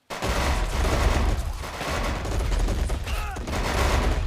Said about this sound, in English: Nehmt sie unter Feuer!